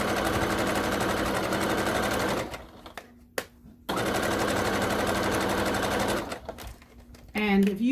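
A sewing machine stitches fabric for an armchair caddy in two steady, fast runs of buzzing, separated by a pause with a few clicks, before a voice starts speaking.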